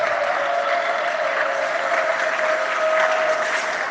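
A church congregation applauds and cheers to acclaim Jesus at an Easter Monday Mass in the Easter octave, a steady, dense wash of clapping from many hands that carries on throughout without a break.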